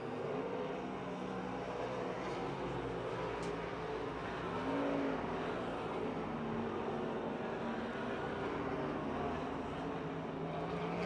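Race cars run on the Pennsylvania Motor Speedway dirt track, a continuous distant engine roar that swells slightly midway and stays steady as the field comes around.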